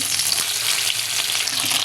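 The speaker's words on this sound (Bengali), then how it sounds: "তেলটা দেওয়ার পরে সুটকিগুলো এর ভিতরে দিয়ে ভেজে নেব" Oil sizzling and crackling steadily as dried fish fries in a pan, a bright continuous hiss with small pops throughout.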